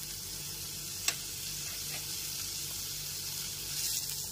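Chopped ginger fries gently in a pan with dried red chilli, giving a soft, steady sizzle close by, broken once by a single sharp tick.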